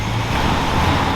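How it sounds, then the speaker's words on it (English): Chevy truck engine revving with a newly built exhaust, a loud steady rumbling drone that fills the whole short moment close by, with no voices. "You rev it up a little."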